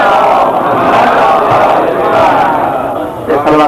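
A large gathering at a majlis in Jhang chants salawat slogans in unison, a loud, dense roar of many voices that holds steady before breaking off near the end.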